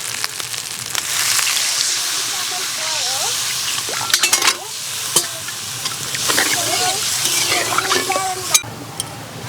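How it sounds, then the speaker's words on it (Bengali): Water poured into fried masala sizzling in a pan for a rui fish curry with cauliflower, a bright hissing sizzle with stirring scrapes and occasional clinks, fairly close and steady. "এবার দিয়ে দেবো জল।"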